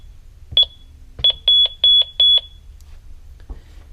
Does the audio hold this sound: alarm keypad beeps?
yes